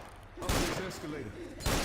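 Gunfire rings out in the Dead Center level of Left 4 Dead, two sharp shot bursts separated by a short gap, with a voice talking between them.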